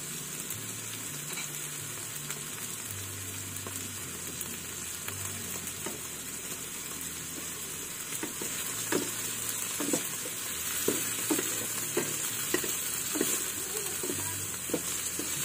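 Tomatoes sizzle steadily in a hot pan while a spoon stirs them, soft scraping strokes coming faster toward the end over a constant frying hiss, close up.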